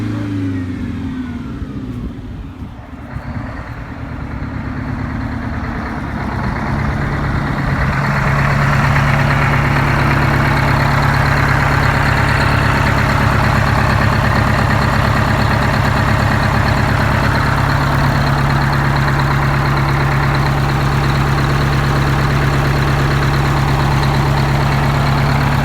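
A GM PD 4106 bus diesel engine rumbles close and loud, dipping briefly before settling into a steady, heavy idle with a deep, constant drone and a droning mid-range hum throughout.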